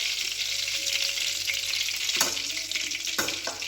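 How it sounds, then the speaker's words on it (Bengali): Chicken pieces for chili chicken fry in hot oil, a loud, steady sizzle that runs throughout, with a few sharper crackles and stirring clatters near the end. "সব চিকেনগুলো ভাজা হয়ে গেছে"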